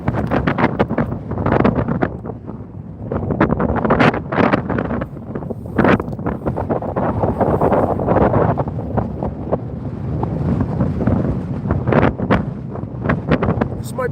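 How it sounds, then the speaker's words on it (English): Gusty wind buffets a microphone outdoors on an ice fishing outing, a loud continuous rumble with stronger gusts, under someone talking. "Can you still hear me with that wind?"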